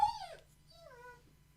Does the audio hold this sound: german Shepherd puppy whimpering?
yes